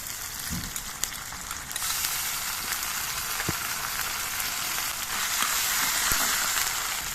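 Ginger and garlic paste hits hot oil with fried onions and sizzles in a steady, bright crackling hiss that grows louder after the first couple of seconds, with occasional soft pops and a utensil tap, close and alone.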